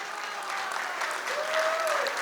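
An audience at a share listing event breaks into brief, dense applause, a steady wash of clapping with a faint whistle rising and falling near the end.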